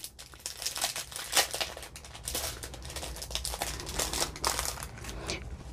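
Crinkling plastic or paper wrapping on a package of handmade cards is crumpled and torn open close by, a continuous rustle with irregular louder crackles, no talking.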